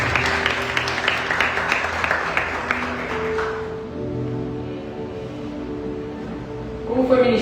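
A church congregation claps in applause for about three and a half seconds. The clapping then fades into softer crowd murmur and music-like tones, with a voice rising near the end.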